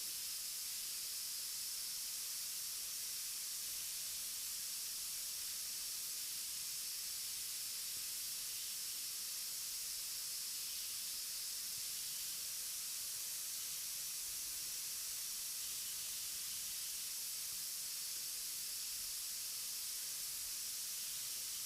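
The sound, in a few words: steam hissing as it fills a vault room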